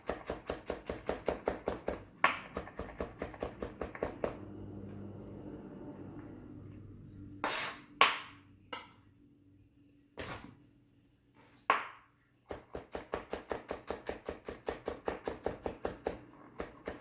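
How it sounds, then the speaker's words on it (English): A knife chops smashed garlic on a cutting board in quick, steady bursts of sharp, close taps, pausing in the middle with a few isolated knocks before the rapid chopping resumes. "let's begin by chopping the garlic"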